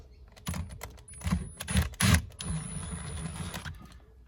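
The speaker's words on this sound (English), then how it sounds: "with a screw gun, just putting our screws in, one on the back side as well" A screw gun driving screws into accessory sockets on a Toyota Prado 150 series, giving short buzzing whirrs in several quick bursts, then one longer run, close by and with no talking.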